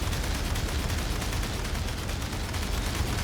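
An ARC vehicle in Aliens: Dark Descent fires steadily at aliens, a continuous stream of rapid shots forming a dense, unbroken rattle throughout with no talking over it.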